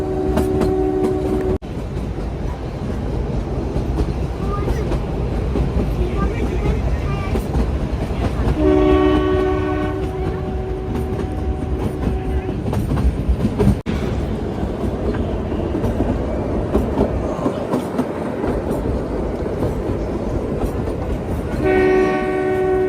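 Himalayan Queen toy train 52455 running from Kalka to Shimla, with a steady rumble and clatter of wagons throughout and loud, sustained horn blasts at the start, in the middle and again near the end.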